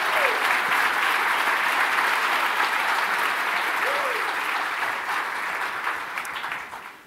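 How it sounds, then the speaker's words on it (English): Sustained applause from a large conference audience at an opening plenary, a broad, even wash of clapping that holds steady for several seconds before tapering off slightly at the end. "A huge round of applause for our NCSD team members."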